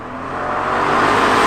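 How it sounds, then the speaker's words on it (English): A supercharged Jaguar engine revving, a smooth rising roar that builds steadily in loudness over a second and a half, close and without talk. "Listen to that noise. Supercharged engines almost sound naturally aspirated."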